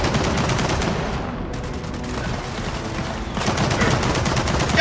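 A machine gun nest fires in the Gears of War 4 video game, a loud, dense rattle of rapid automatic gunfire running throughout with brief shifts in intensity.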